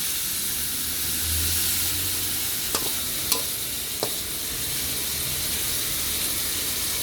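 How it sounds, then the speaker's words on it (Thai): Fresh pork stir-fries in oil in a pan for a shrimp-paste stir-fry, with a constant close hiss and sizzle broken by a few sharp clicks of a utensil against the pan. "นี่ครับเราผัดก็เริ่มสุกแล้วนะครับ"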